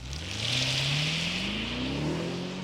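A BMW 650i coupe's 4.4-liter twin-turbo V8 revs up in a steady, rising pull, its deep exhaust note climbing in pitch over a couple of seconds, loud and close with no voices.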